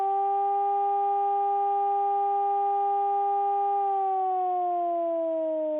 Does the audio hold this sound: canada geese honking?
no